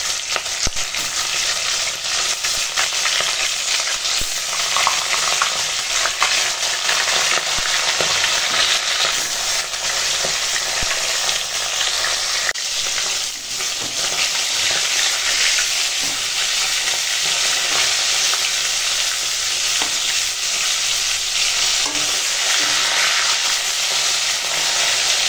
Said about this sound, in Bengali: এখন তেল হয়ে গেছে গরম, আর মাছ ভেজে নেব।